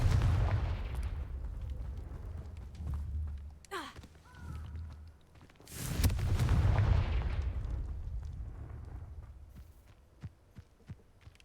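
Confringo blasting curse explosions in Hogwarts Legacy, a few deep booming blasts with a whooshing spell sound between them, loud and alone without talk.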